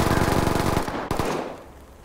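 Rapid automatic gunfire in the Ready or Not video game, a dense loud burst of shots that cuts off abruptly, followed by a single sharp crack and a fading echo.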